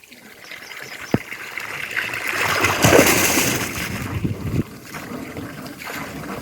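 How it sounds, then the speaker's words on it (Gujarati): An electric motor pump draws water from a century-old farm well, the water gushing steadily with a broad rushing wash that swells and fades, close to the microphone, with a sharp knock near the start and no talk. "મોટર ચાલુ કરી છે જુઓ તમે પાણી આવે છે"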